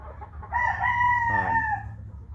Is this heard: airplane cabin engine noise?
no